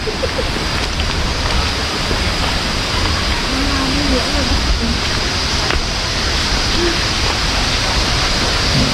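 Soi Sawan waterfall in Khong Chiam, Ubon Ratchathani, a loud constant roar of rushing water filling the whole clip, with faint voices barely audible beneath it.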